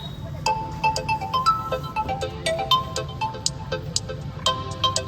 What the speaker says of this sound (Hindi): हाँ देखिए, कॉल आ चुका है, एक्सीडेंट अलर्ट।